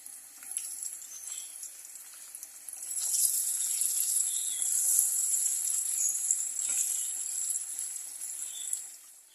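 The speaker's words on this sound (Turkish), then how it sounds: "Patlıcanları da kuruladım. Şimdi kızartmaya başlayacağım." Steady high hiss and sizzle of eggplant frying in hot oil, growing louder partway through with occasional faint clicks, no voices.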